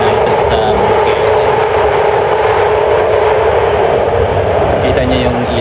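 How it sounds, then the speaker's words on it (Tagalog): A yellow line BART train rides toward San Francisco International Airport, giving a loud, steady rushing roar of wheels and motion heard from inside the car, with no break. "This is a yellow line train to San Francisco International Airport."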